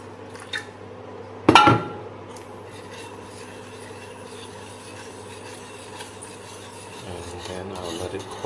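Utensil stirring and rubbing kueh pisang mixture in a pan, a steady soft rasping scrape throughout, with one sharper knock near the start and a low hum underneath.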